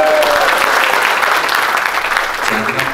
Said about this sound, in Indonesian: Jangan tepuk tangan.